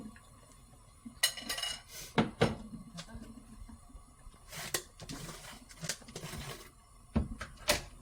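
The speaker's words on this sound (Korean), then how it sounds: "준비된 떡볶이는 냄비에 골고루 넣어줍니다." Hard clattering knocks and clinks of tteokbokki rice cakes dropped into a metal pot of water on a gas stove, in several bursts with quiet gaps between them, close by.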